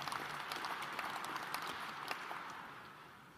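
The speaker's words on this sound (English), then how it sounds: "let any deserved applause be applauded" Audience applause at a defense forum panel, a steady dense wash of clapping from a large crowd that holds for a few seconds and then starts to taper off.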